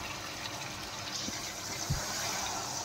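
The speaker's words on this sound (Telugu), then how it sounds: "వాటర్ పోసుకోవాలండి." Water splashes into a pan of fish curry cooking with onion, ginger paste, turmeric and chili powder, a steady gushing pour heard close and fairly quiet, with no talking.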